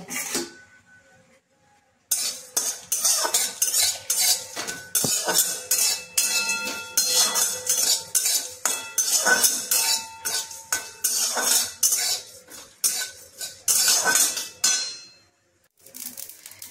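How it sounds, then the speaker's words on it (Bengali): Whole cumin, cardamom and cinnamon dry roasting in a kadai, a spatula clinking and scraping against the metal in quick, irregular bursts of stirring after a quiet start, fairly close and with no talking. "গোটা জিরে, এলাচ আর দারচিনিটা আমি দিয়ে দিলাম কড়াইয়ে, কিছুক্ষণ নাড়াচাড়া করব"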